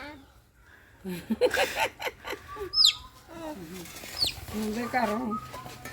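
A young rooster being grabbed for slaughter gives short, agitated clucks and squawks at close range, interspersed with people talking nearby.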